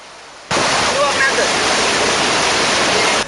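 Water roars steadily through the opened spill gates of the Ampara Reservoir, a loud, dense broadband rush that cuts in abruptly after a brief quieter moment and continues without pause.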